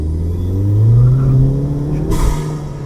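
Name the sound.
car engine revving with newly installed loud intake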